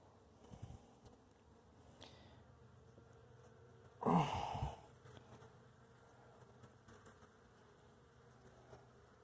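Honeybees hum faintly around an open beehive, a low steady drone with one louder buzzing swell as bees pass close by.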